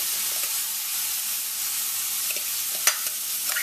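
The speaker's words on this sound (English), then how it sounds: "And keep sort of stir frying it" Shrimp stir-frying in a hot pot sizzles steadily, with a constant frying hiss and a few faint clinks of stirring.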